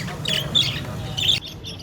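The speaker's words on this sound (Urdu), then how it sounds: "خوبصورت رنگوں اور پرسرور آواز میں چہچہاتے پنجروں میں قید مختلف پرندے" Assorted caged pet birds, including Australian parrots, cockatiels and lovebirds, chirp and squawk in a street-side setting, short bright calls repeating over a steady low background hum.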